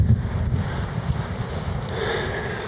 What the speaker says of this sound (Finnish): Tuuli on vähän ikävä kyllä noussut.